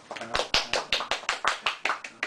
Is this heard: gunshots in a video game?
no